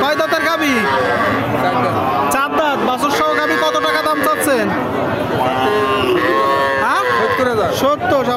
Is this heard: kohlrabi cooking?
no